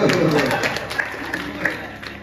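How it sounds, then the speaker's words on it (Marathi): An audience at a Ram Katha religious discourse claps in a steady, dense patter that fills the hall, with a voice talking over the applause. "आता टाळ्या वाजवाय"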